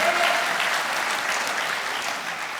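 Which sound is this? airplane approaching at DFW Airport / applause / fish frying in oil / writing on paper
applause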